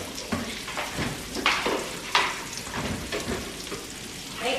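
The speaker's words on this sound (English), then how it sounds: "So now I'm gonna season the steaks, put them on, but I want them to cook kind of slow." Seasoned steaks fry slowly in a small pot, giving a close, steady sizzle and crackle with louder spattering pops and a few scraping stirs, with no voices.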